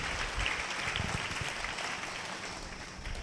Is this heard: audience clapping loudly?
yes